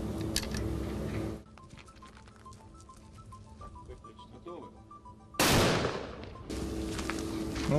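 Two loud, sharp gunshot blasts from a hunting carbine firing 7.62 Kalashnikov rounds ring out, one at the start and another near the middle, with quieter rustling and handling noise between them.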